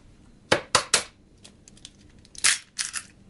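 Two eggs cracked against a bowl for cake batter, sharp close crunches and snaps in a couple of quick bursts, followed by shell bits clattering, with no talking.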